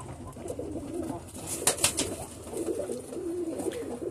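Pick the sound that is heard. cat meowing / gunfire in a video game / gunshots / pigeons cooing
pigeons cooing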